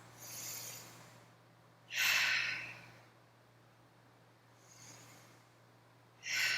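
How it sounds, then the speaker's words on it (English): Slow deep breaths during a flexibility class for upside-down splits: a long airy inhale or exhale near the start, then a louder breath at two seconds, a fainter one near five, and another loud one at the end, with a steady low hum underneath. "Give yourself 2 deep breaths"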